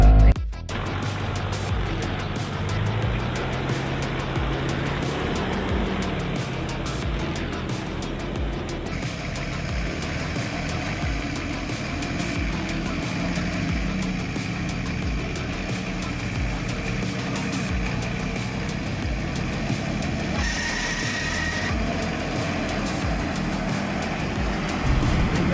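A Suzuki Jimny 4WD engine revs steadily while accelerating over rough ground at an off-road park, a sustained loud drone that holds for the whole stretch, with faint wind noise at the start.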